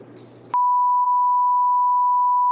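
A phone gives out a FaceTime call tone as a single steady electronic beep, loud and sustained for about two seconds after a brief burst of noise.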